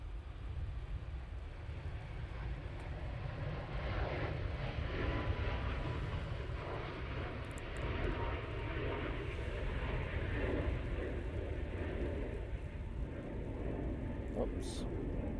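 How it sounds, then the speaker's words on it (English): A Ryanair Boeing 737 MAX 8 departs for Madrid from Manchester Airport, its jet engines giving a steady, distant roar with wind noise that holds at a constant level throughout. "That's off to Madrid for Ryanair using their 737 MAX 8."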